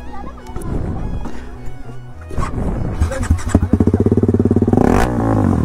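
Motorcycle engine on a Sunday ride, idling then revving in a rapid pulsing run near the end, close and loud, with some background clatter and a faint dog bark.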